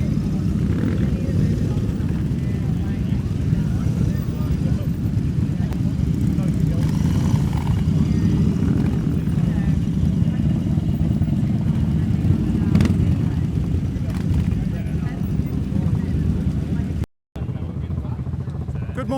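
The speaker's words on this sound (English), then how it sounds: "Just a symphony of beautiful motorcycle exhaust noises." Classic motorcycles at a Distinguished Gentleman's Ride charity event rumble together in a steady, dense exhaust drone, continuous throughout with a brief dropout near the end.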